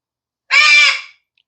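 A pet bird gives a single loud, harsh squawk lasting about half a second, close and alone in otherwise silent surroundings.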